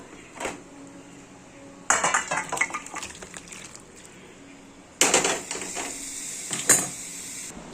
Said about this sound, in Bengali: এখন আমার মাছের ঝোলটা হয়ে গেছে, এবার আমি তুলে ফেলবো।